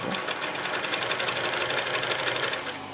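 A sewing machine stitches elastic onto a thong, its rapid needle chatter running loud and steady for the whole span with no talking.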